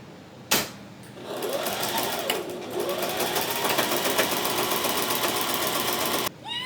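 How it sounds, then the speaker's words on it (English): A sewing machine stitches fabric for a dog bed, a rapid mechanical whir that starts abruptly, runs close and steady for several seconds, then stops. "Last line to sew of the top."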